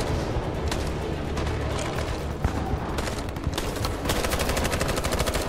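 Dense, continuous covering gunfire from automatic weapons fills a firefight in the video game Detroit: Become Human, with rapid bursts and overlapping shots running steadily throughout, loud and close.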